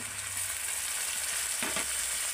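Ginger paste and chopped tomato fry in hot oil with a continuous close sizzle, and a brief stirring scrape comes near the end.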